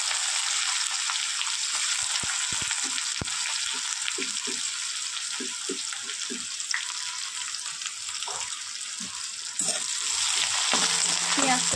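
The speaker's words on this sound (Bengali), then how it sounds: "এবার একটু ভাজা ভাজা করে নেব।" Onions sizzle and fry steadily in hot oil with curry leaves, dry red chillies and mustard seeds, a loud continuous crackle broken by occasional stirring clinks of a spoon against the pan.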